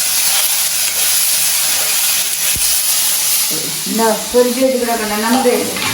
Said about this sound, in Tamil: தக்காளி பழத்தையும் போடுவோம் என்ன தக்காளி பழம் போட்டாச்சு